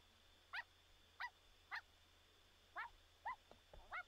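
Small dog in The Sims 4 barking in six short, sharp yips spaced about half a second apart, fairly faint over a low steady hum, with no talking.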